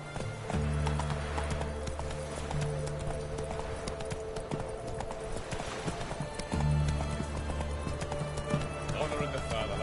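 Roach the horse from The Witcher 3 gallops in a steady clip-clop of hooves with occasional snorts and neighs, mixed with game music and a voice speaking.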